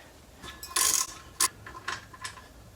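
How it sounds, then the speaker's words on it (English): Close, crisp clicking bursts from a ratchet backing out brake caliper retainer bolts on a Toyota 4Runner, several short quick runs of pawl clicks separated by brief pauses in a quiet shop. "Then we can remove the retainer bolts."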